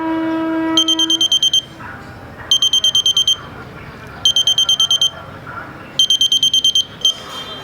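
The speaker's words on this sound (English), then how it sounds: "the moment it detects the metal and it gives you localized signal, a buzzer" A metal-detecting robot's buzzer sounds in four separate clusters of rapid, high electronic beeps, each lasting about a second, over a steady background hum and faint room noise.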